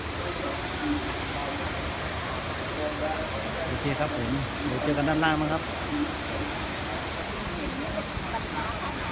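Waterfall near Sapa on a cold, overcast day, giving a steady, broad rushing roar throughout while someone talks over it.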